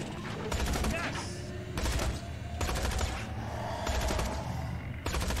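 Gunfire from the video game Tales from the Borderlands, rapid bursts of shots repeating in clusters across the clip, loud and dense against a steady game background with a voice faintly present.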